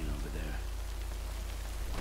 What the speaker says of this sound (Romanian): trebuie să aștept să treacă ploaia